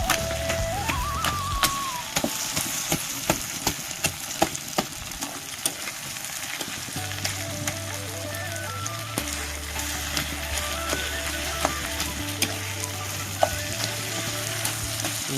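Fish heads fry in a pan with ginger garlic paste, giving a continuous crackling sizzle at close range. It runs steadily from start to end with background music over it.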